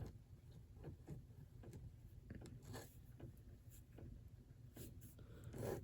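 Soft pencil or marker strokes scratch across paper while a cartoon Elmo's arm is drawn, faint and close, coming in short, uneven bursts with no talking.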